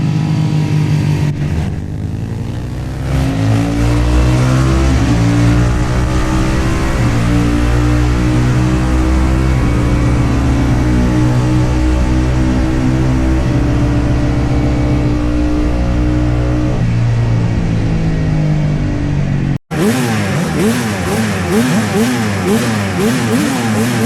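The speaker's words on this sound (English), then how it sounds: "Race 1 has shown that the Manx is really struggling when you're rolling the throttle on" A Manx Norton racing motorcycle roars at Snetterton circuit, its single engine note rising and falling through gear changes, loud and sustained throughout, with a cut near the end leading into another engine howl.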